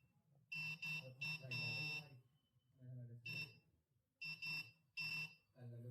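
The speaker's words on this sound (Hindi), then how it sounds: "जैसे ही सामने ऑब्जेक्ट आ रहा है तो अलार्म भी बज रहा है और वाइब्रेटर भी ऑन हो रहा है" Homemade ultrasonic glasses for the blind set off a buzzer alarm on detecting an object ahead: repeated harsh electronic buzzing bursts in an irregular on-off pattern, close and clear against a quiet room.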